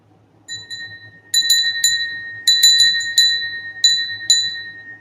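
An old amber glass bell from West Germany rings in a series of bright, clear strikes, each with a sustained shimmering tone that slowly fades, close and alone without voices.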